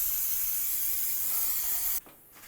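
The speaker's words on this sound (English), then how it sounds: "We're going to spray it down with some parts cleaner just in case it has any anti-seize on there" A continuous loud hiss of an aerosol can of parts cleaner spraying on front brake parts of a Ram 1500 pickup for about two seconds, then stopping abruptly into near quiet.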